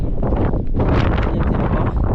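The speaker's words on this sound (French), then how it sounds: "Parce que il fait énormément de vent." Strong wind gusting across an exposed mountain pass ridge, a loud continuous roar buffeting the microphone with surging bursts and no pauses.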